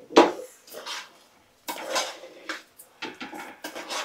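Biryani rice and spices being stirred in a pot, with a spoon scraping and clanking against the metal in irregular bursts of knocks and scrapes separated by short pauses, close and fairly loud, with no talking.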